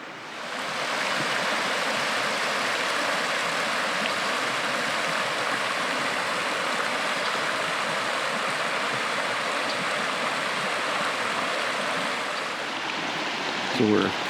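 Close, steady rushing of flowing creek water at a trail creek crossing on Elgin Trail South, a constant broadband wash that runs unbroken before stopping abruptly at the end.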